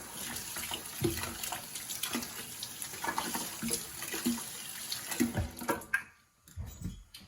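Milking machine plugs rinsed under a running tap after soaking in bleach, with a steady rush of water, occasional clunks and splashes of the plugs being handled, then the flow cutting off near the end.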